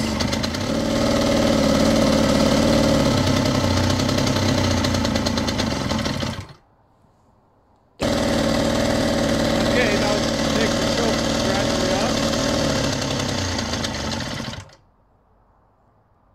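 Gas jumping compactor engine running loudly and close with a rapid rattling chug, then cutting out abruptly. After a brief pause it restarts and runs again before dying a second time, leaving near silence.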